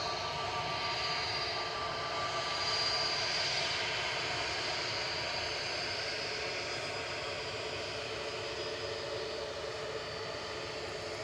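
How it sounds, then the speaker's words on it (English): A Brussels Airlines Airbus A320neo departing Manchester Airport for Brussels makes a faint, distant, steady jet-engine rumble and whine that holds level throughout. "A320 Neo. Operating flight 2184 over to Brussels"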